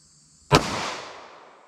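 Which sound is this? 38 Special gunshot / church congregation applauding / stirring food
38 Special gunshot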